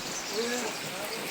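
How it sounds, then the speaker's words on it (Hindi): Steady rain patters down near a cattle shelter screened with a tarpaulin curtain, an even hiss of drops on surfaces with no voices over it. "तो बारिश फिर से आ गई रुक के थोड़ी बहुत फिर से आ गई।"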